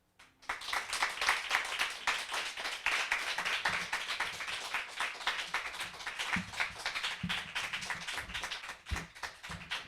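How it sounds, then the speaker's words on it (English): An audience at a poetry reading night breaks into warm, sustained applause, many hands clapping densely and evenly for nearly ten seconds before it starts to thin out. "Let's give another round of applause to our readers tonight."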